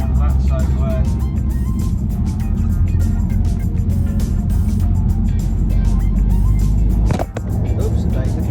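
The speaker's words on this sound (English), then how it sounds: "Let's just give this a little bit round the roundabout just to see how it fares on the corner" A BMW E82 fitted with Bilstein B12 suspension rounds a roundabout on a public road, its engine and road noise a steady loud drone from inside the cabin, with a brief bump near the end and a voice talking over it.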